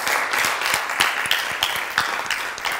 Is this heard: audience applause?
yes